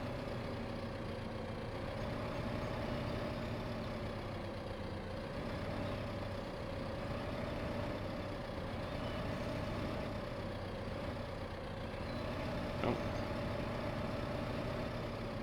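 A tractor engine in a farming video game, pulling a large header, drones steadily at a low, even pitch, a constant mechanical hum with no talking.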